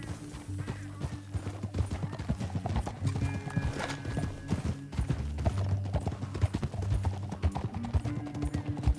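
Horse hooves clip-clop in steady rapid rhythm in the video game Red Dead Redemption 2, close and continuous across a canyon ride, with game music tones and occasional whinnies underneath.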